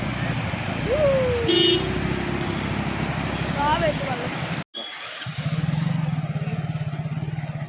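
A car edges through floodwater over the submerged Karippali bridge in Kerala, its engine rumbling under loud shouting voices, with a brief horn-like tone and a sudden cut midway.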